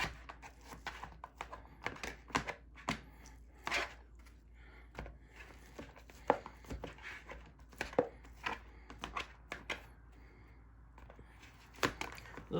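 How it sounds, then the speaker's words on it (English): Grilled 90-10 ground meat is chopped on a board with a knife for a bacon cheeseburger pizza, a close, irregular series of sharp knocking chops, mostly alone with no talk. "We're going to chop that up for our bacon cheeseburger pizza."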